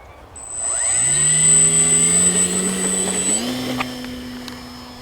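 An FMS 1400mm Piper J-3 Cub V4 electric RC plane on a 3S battery spools up its motor on a maiden flight, a loud whining tone that rises in pitch, holds steady and then climbs again.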